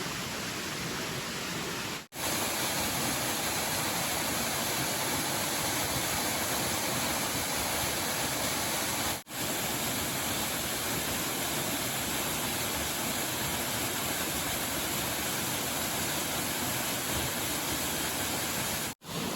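Seneca Creek on a Spruce Mountain hiking route rushes steadily with a dense, even wash of flowing water that stays loud and unbroken throughout, with no voices over it.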